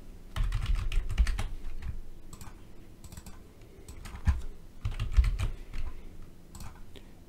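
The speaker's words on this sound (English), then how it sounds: "I can double click on the channel properties and type in the name that" Keys clatter on a computer keyboard in short bursts of typing, close and crisp, with pauses between runs of keystrokes and no voices.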